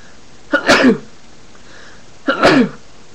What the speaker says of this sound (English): Sorry, I sneezed, just a little dusty.